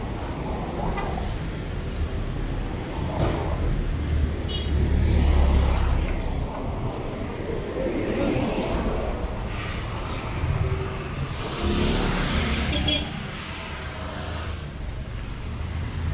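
Street traffic on Kalayaan Avenue in Makati City, with cars passing at moderate distance in waves that swell and fade, a steady urban roar underneath, and faint bird chirps on top.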